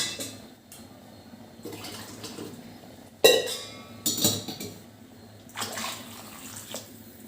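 Hot water poured straight into a pot of chicken masala biryani, giving a few bursts of splashing and sloshing with clinks of the pot, close and moderately loud, with quieter pauses between pours.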